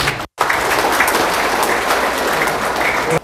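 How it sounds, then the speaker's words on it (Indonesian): A crowd claps loudly and continuously for a newly installed village head at the Ciborelang handover ceremony. The applause runs unbroken after a brief gap at the start. "Tepuk tangan ka Mama"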